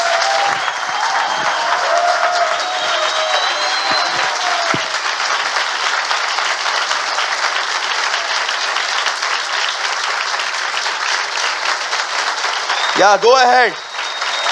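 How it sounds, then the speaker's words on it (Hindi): A church congregation applauds loudly during a worship service, a dense and steady wash of clapping that lasts throughout, and a voice speaks briefly near the end. "आइए यीशु के लिए एक जोरदार ताली बजाएं।"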